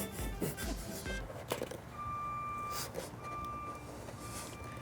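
A car backing up gives off steady, repeating electronic reversing beeps at a moderate distance, with traffic-like background noise and a few faint voices mixed in.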